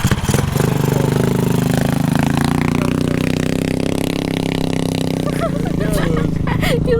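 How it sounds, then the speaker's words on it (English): Small engines of a mini bike and a Banshee ATV run steadily at a loud, constant drone on the Silver Lake sand dunes in Michigan, close by and continuous, with people talking over it. "we'll unload the mini bike and the Banshee and take them out for a whirl"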